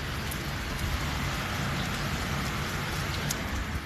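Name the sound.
rain falling in Montenegro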